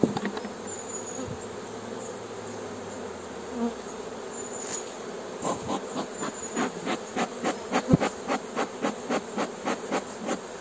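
A wild honeybee swarm buzzes steadily around a hive, a dense insect drone with close passes and a quickening series of rhythmic pulses toward the end, with no talking.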